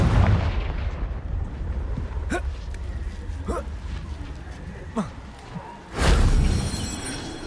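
Confringo fire spell explosion in the Hogwarts Legacy video game, a loud burst of blast noise rising over a busy battle soundscape with other spell impacts and a voice shouting.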